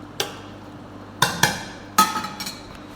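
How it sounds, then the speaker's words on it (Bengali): A lid set onto a cooking pan while soybean curry is being made, giving a few sharp metallic clinks and knocks spaced over a couple of seconds, close and fairly clear with no talking. "ঢাকনা চাপা দিয়ে দেবো।"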